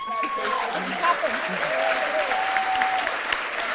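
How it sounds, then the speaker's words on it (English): An audience at the RTÉ All Ireland Drama Festival awards gives sustained applause, a continuous wash of many hands clapping with faint voices and cheers threaded through it. "Can we give Nuala a big hand of applause?"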